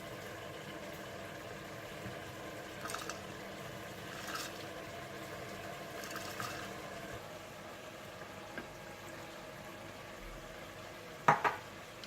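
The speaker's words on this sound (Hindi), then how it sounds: "और अब आप गोश्त को अच्छी तरह से भून लीजिए।" Quiet, steady sizzling of mutton frying in a pot, with a few soft scrapes and a sharper clatter near the end.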